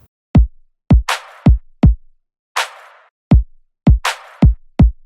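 A hard-hitting electronic trap drum pattern with compression and EQ, tight booming kicks and crisp bright layered claps, loud and dense, repeating in a quick steady groove.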